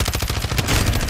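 Rapid bursts of shotgun fire in a video game, several loud closely spaced blasts in a continuous volley with no talking.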